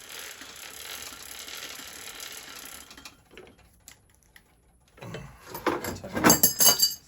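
A pedal wrench tightens a pedal on a Kink Williams complete BMX bike: a stretch of faint rustling handling and a quiet pause, then a run of sharp, close metallic clicks and ratcheting toward the end.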